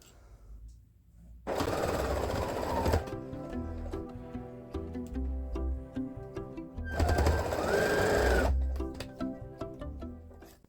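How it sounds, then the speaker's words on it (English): A sewing machine back-stitches the corners of a baby activity blanket, its motor whirring in two loud sustained bursts separated by a quieter stretch of softer mechanical noise. "I'm going to back stitch on all of the corners as well, just to give them a little bit more reinforcement."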